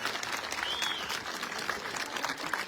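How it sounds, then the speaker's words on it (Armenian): An audience applauds at a political address in Armenia, a dense wash of many hands clapping steadily at moderate level, with a brief whistle-like tone partway through. "Ինչքան լավ ձեր տպավորությունները, այդքան ծափ տվեք։"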